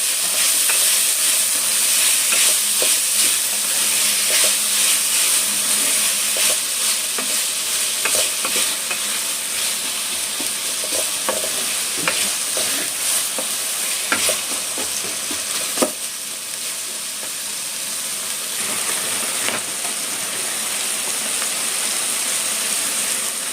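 Paneer kurma ingredients frying and being stirred in a pan, a steady loud sizzle with scraping spoon strokes throughout, close by with no talk.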